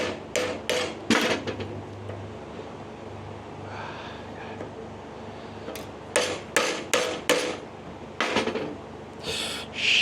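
Hammer tapping U-joint caps into the yoke of a Jeep Dana 44 or Dana 30 front axle: bursts of sharp metallic blows, several in rapid runs with pauses between, close and fairly quiet.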